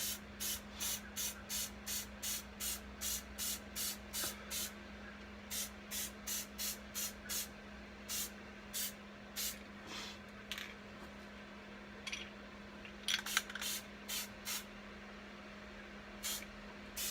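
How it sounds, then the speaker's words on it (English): Short bursts from a spray paint can over a stencil, hissing in a regular rhythm of about a dozen evenly spaced puffs, then sparser, irregular sprays after a pause, over a faint steady hum. "I'm going to go in and spray."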